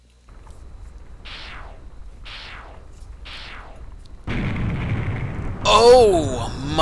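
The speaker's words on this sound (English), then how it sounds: "What a huge explosion!" In the video game 6 Days a Sacrifice, three soft whooshing bursts lead into a sudden, loud, sustained roaring explosion with a rumbling low end, and a voice cries out near the end.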